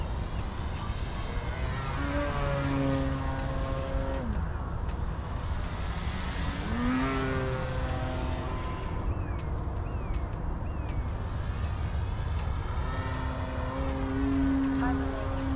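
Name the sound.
CNHL Bison XT RC plane flying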